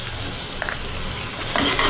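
Chopped onions sautéing in a pan for a sandwich filling, with continuous close sizzling and scraping stirs that grow louder toward the end.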